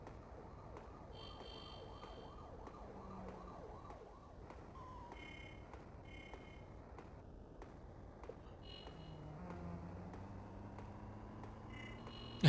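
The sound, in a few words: cityscape ambience from video game Wario Land 4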